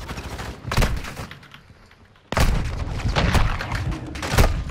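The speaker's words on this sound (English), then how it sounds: "I was getting shot from every angle there." Video game gunfire from a Gun Game match: two dense bursts of loud, crackling shots, the first cluster near the start, then a short lull before a second, heavier volley that keeps rattling to the end.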